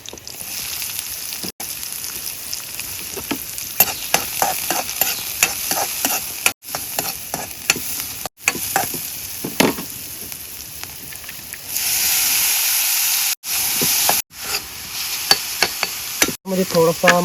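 Garlic fries and sizzles in a pan over a campsite fire, with a steady, close hiss, scraping stirs and a few brief pauses as the cooking goes on.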